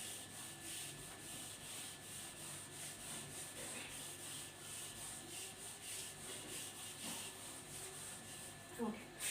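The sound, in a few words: rubbing an eraser across a board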